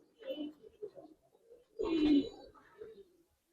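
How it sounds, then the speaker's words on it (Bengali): Ring-eyed Giribaz pigeons coo in a few soft, rolling phrases, with one louder, fuller coo near the middle, close by and with no talk over them. "নর্মালি তোমরা রিং চোখের কবুতর"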